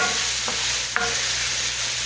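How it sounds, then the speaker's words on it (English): Chicken cacciatore sautes in a pan with a steady, loud sizzle, broken by a couple of brief stirring scrapes, and no voices. "So I'm going to go ahead and let this continue to saute"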